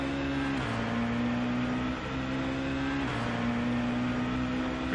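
A Volvo touring car in Assetto Corsa on the 1990s Thruxton Circuit, its engine holding a steady high drone with brief dips at gear shifts, loud and continuous with no voices.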